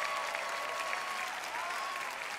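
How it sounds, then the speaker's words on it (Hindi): Steady, dense applause from a studio audience welcoming volunteers onto the stage of a Hindi-language Brain Games show, continuous and full for the whole stretch with no break. "और इन सबके लिए जोरदार तालियां."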